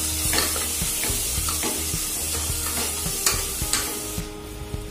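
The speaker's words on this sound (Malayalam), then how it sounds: "നന്നായിട്ട് മിക്സ് ചെയ്യാം." A spoon stirs chicken masala through sausage curry in a frying pan, a steady sizzle with repeated scraping strokes and clinks against the pan, close and alone.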